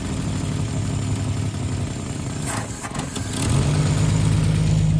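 A 1955 Chevy V8, back running after 40 years off the road, idles with a steady, close rumble. It then picks up into a louder, higher revving hum toward the end with no talk over it.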